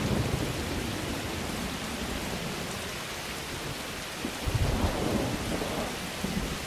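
Rain effect in the opening of the Dororo anime: a steady, dense hiss of rainfall that runs throughout, with a few low rumbles swelling near the end and no one talking.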